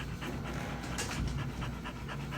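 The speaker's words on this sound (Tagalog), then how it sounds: "Ba't hingal na hingal ka?" Senior dog panting heavily up close, a steady rapid rhythm of short wet breaths filling the whole moment with no talk over it.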